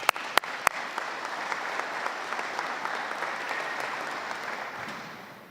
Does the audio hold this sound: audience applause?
yes